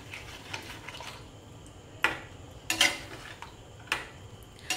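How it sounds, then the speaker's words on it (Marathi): A spoon scrapes and clinks against a pan while brinjal bharit is stirred and mixed with a little water, several sharp metallic knocks spaced irregularly over a quiet background. "परत चांगलं एकजीव करायचं"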